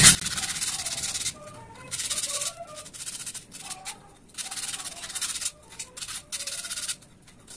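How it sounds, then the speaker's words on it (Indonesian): Sandpaper rubs by hand against a small aerated concrete (Hebel) mini bonsai pot in rhythmic back-and-forth strokes, each gritty rasping burst about a second long, separated by short pauses. "Kita rapikan pakai amplas."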